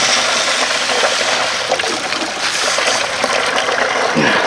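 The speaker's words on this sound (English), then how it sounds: "We'll run 5 gallons of water through it." Water flushing through a Ford Expedition 4.6 heater core, a steady close rushing gush of liquid with constant trickling and splashing throughout.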